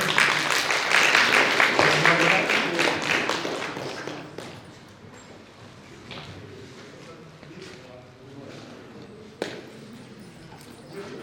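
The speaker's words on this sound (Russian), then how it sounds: "Аплодисменты, пожалуйста." Clapping from a crowd, dense and loud at first, then thinning out and fading after a few seconds, with people talking over it.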